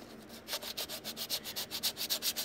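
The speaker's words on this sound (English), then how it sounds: "Sand her down." Rough dried filler being sanded by hand on a hard body, with steady rhythmic back-and-forth rubbing strokes, close and fairly even, no talking.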